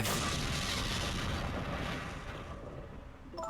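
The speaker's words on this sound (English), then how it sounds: "An explosion?" An explosion in the video game Ghost Trick: Phantom Detective, heard as a loud broad rumbling roar that fills the sound and slowly fades over a few seconds.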